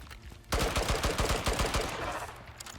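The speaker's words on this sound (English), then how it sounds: "Oh my god, this gun is amazing." Rapid automatic gunfire from a gun in the video game Icarus: a loud, fast burst of closely spaced shots that starts abruptly and rattles on for about two seconds, then tails off.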